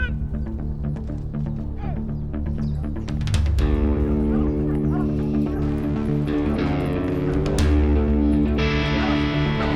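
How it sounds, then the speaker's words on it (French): Hunting hounds giving tongue during a hunt with hounds in the Tronçais forest, a chorus of drawn-out howling and baying cries that overlap and swell, fairly loud and close, with no talk. "Il y a un chien qui donne en dessous là quand même."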